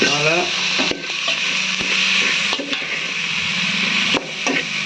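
Ginger garlic paste fries and sizzles in a pan as it is stirred, with steady frying hiss and a few scraping strokes and knocks of the spoon.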